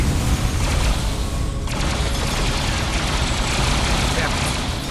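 Enemy gunfire in Star Trek Online forms a dense, continuous barrage of shots and booms, loud and unbroken, with a brief dip partway through.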